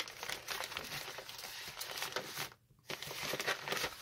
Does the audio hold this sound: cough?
no